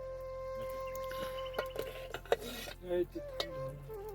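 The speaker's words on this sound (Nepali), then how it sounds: "ओए त्यो थाल ढल्लाए" A metal plate tips over in a remote Himalayan village, giving a few scattered clanks and rattles at moderate distance over a low background hum.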